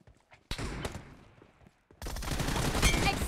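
Video game gunfire erupts in a sharp burst, then turns into a dense, loud stretch of continuous shooting with rapid repeated reports.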